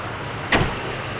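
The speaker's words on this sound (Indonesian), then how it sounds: "Ini motor untuk penyangga bagasinya, pencet tombol maka langsung tertutup." Power tailgate motor on a Toyota Hiace closing after a button press: one short whirring whoosh, about a tenth of a second, rising out of a steady low background hum.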